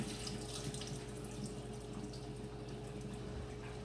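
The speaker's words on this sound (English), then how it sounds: "Then we're going to put some more water." Tap water runs steadily into a pot of pinto beans being rinsed, a continuous soft splashing stream heard close and alone.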